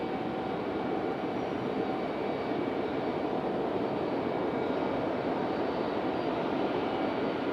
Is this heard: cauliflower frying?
no